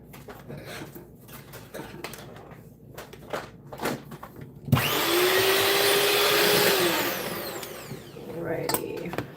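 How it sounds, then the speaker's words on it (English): An electric hand mixer whirs loudly and steadily for a couple of seconds while sorrel drink is being made, rising sharply, holding, then winding down, with clatter and handling noises around it. "I'm using the hand mixer"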